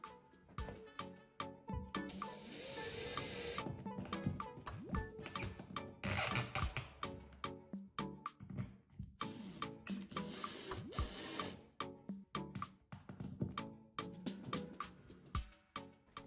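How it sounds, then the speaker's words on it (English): A screwdriver tightens screws into a drywall anchor for a towel bar, producing a long run of quick clicking, ratcheting ticks and small scraping turns, close and fairly quiet, with brief pauses between bursts of turning. "I'm going to be using my screwdriver to tighten it all up and make it nice and straight"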